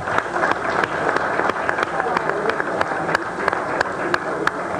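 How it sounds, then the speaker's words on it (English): Studio audience applause on a local live broadcast in Danbury, a steady dense patter of clapping at moderate distance with talk mixed in. "So can we just give a round of applause for that anniversary?"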